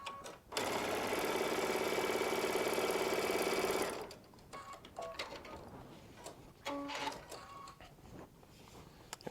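A Baby Lock Solaris sewing machine pieces fabric in one steady, close, whirring run of about three seconds, then stops, followed by quieter handling clicks and rustles.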